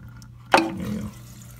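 Water from a toilet tank suddenly rushes out with a sharp gurgling splash, then drains with a short, fading trickle over quiet background hum during a flapper and fill valve repair.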